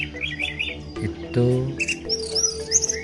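An orange-headed thrush (anis merah), a songbird kept as a pet, gives bright high chirps and short warbling phrases at the start and end, close and clear, with a brief spoken word in between.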